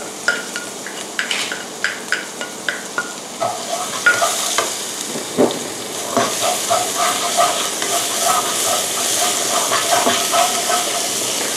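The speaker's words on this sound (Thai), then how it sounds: "พอผัดพริกกับเทียมหอมแล้วนะคะ" Chopped garlic and chili sizzling in fish-frying oil as they are stir-fried in a wok, starting with rhythmic scraping stirs and settling into a loud, steady hissing crackle close by, with no talk.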